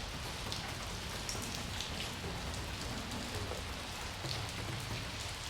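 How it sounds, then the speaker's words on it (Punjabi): Steady rain falls in an even, dense hiss of drops, moderately faint and unbroken throughout, with no voices or thunder. "ਇੱਥੇ ਤੇ ਮੀਂਹ ਜਾ ਪੈਣ ਡਿਆ"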